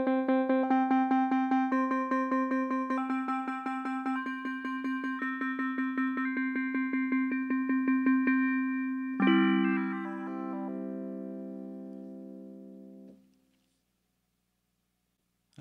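An FM synthesizer tone with ratio tuning swept through the first eight harmonics of the harmonic series, a pulsing buzzy note whose overtones shift in steps, then a brighter layered chord that holds and cuts off, alone and close.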